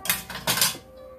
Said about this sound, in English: let me get our spoon to stir